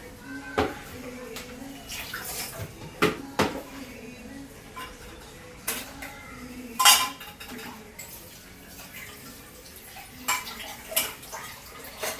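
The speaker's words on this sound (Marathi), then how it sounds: "चला काय आता पटकन भांडे घासून घेते मी." Dishes, pots and cutlery being scrubbed and washed in a home kitchen sink, with irregular clinks and clatters of metal utensils over a steady wash of running water, close and moderately loud.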